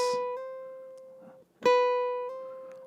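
A plucked ukulele chord rings out, then a quick finger slide bends the pitch upward; a second strummed chord follows with the same sliding rise, clear and close.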